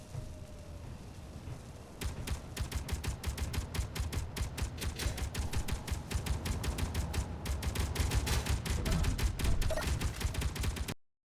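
Rapid bursts of automatic turret gunfire in the Space Engineers game, a dense, loud, steady rattle of shots starting after a short quiet lead-in and running for about nine seconds before cutting off abruptly.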